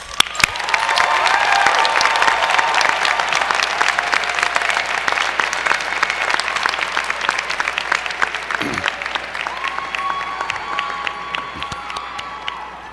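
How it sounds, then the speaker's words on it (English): A large winter commencement audience applauds and cheers graduates, a loud, sustained wave of clapping with occasional whoops that swells quickly, holds steady, then slowly tapers off. "please stand so we can congratulate you and cheer"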